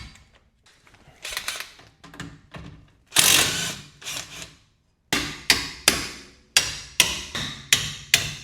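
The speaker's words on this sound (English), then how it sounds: "So you're gonna get your wrench, go on the back side, and you go ahead and take it out from the back." A wrench and hand tools working a coilover bolt on a Subaru WRX, a run of sharp metallic clanks and ratcheting knocks, irregular at first and then a steady series of loud, close strikes with no talk.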